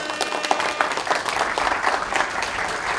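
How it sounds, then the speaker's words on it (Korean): Sustained applause from an audience fills the room at a 2020 SK rookie player induction ceremony, a dense, even patter of many hands clapping at close range for the full length. "뜨거운 박수로 환영해 주시 바라겠습니다."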